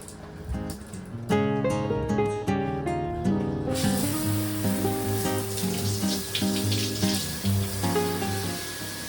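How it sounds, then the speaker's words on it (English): A handheld shower sprays water to rinse a bearded dog during a bath, a steady broadband hiss starting partway through and running on continuously, mixed with prominent tonal background music that plays throughout. "He doesn't like the sound of the shower"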